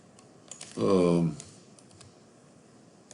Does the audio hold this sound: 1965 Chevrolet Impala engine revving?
no